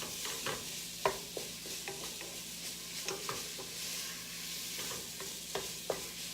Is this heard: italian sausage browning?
yes